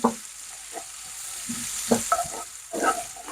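Salt and black pepper being stirred into a gola kebab mixture, with a few soft scraping and mixing strokes at close range over a faint steady hiss.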